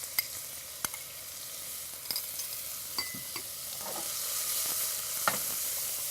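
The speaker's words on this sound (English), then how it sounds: "Once we get our oil heated up, we're going to add some onion here" Half an onion, minced, frying in hot oil, giving a steady broad sizzle with a few sharp clicks and stirring scrapes, moderately near and growing slightly louder toward the end.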